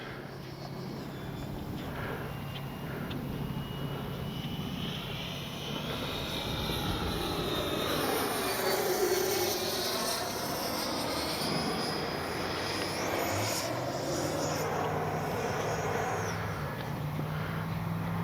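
An E-flite Viper 90mm electric ducted-fan RC jet plane flies past, its steady whooshing roar rising and swelling as it approaches and passes close overhead, then continuing loudly for the whole stretch with no talk.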